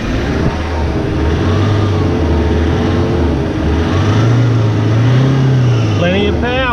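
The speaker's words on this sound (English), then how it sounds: "I'll just give it a bit of a rev and we can hear it." A car engine idles loudly up close, then revs in rising and falling swells, with a steady low rumble throughout and a short whine at the end.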